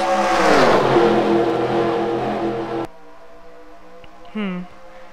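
Race cars roar down the backstretch of an oval in a racing video game, a loud sustained engine drone with rising harmonics that cuts off abruptly, followed by a quieter engine note and a brief rising whine.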